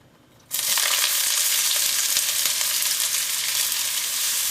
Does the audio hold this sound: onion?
yes